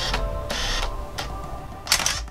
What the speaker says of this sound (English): clunky shutter sounds you can almost feel, and that whirring autofocus